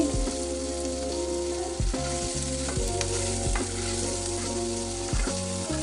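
Leafy greens with turmeric sizzle steadily as they stir-fry in a pan, a continuous close frying hiss broken by a few distinct knocks and scrapes of the spatula stirring, with no voices.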